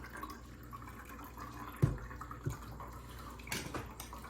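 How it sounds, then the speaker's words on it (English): Water is poured into a Waterdrop filter pitcher, giving soft splashing and trickling with a few louder splashes and drips, close and fairly quiet. "as soon as you pour it, it starts filtering it."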